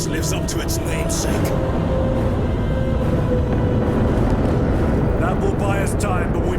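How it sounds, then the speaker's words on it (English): Aircraft engines roar in the Warhammer 40,000: Space Marine 2 video game, a loud, continuous rumbling drone with sharp effects on top and speech over it throughout. "I hear engines."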